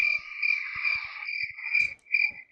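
Crickets chirp continuously as a sound effect, a steady high trill with a few soft low clicks, standing alone with no voices.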